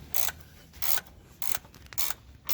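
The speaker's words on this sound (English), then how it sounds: "this is a ratchet wrench, so it's the one that spins through" A ratchet wrench clicks through four short bursts of ratcheting, evenly spaced, while loosening bolts on the front air shock of a 2010-2013 Range Rover Sport L320; close-up and crisp, with no talking.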